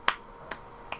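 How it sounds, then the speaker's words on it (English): Three sharp, separate claps or snaps come slowly, evenly spaced about 0.4 seconds apart, close and crisp over quiet background noise. "With your slow hand clapping."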